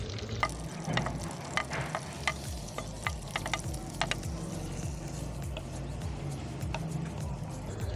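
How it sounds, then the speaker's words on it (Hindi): Onions sizzle in a small amount of hot oil for chicken korma, a steady close crackle broken by the scrape and clatter of stirring. "ऑयल गर्म हो गया तकरीबन, अब हम इसमें प्याज डाल देते हैं।"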